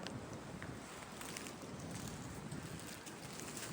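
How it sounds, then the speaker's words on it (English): Wind gusts steadily through a hardwood forest in Virginia, a soft broadband rush and rustle that stays even and fairly faint for a few seconds, with no voices. "This wind picked up like this"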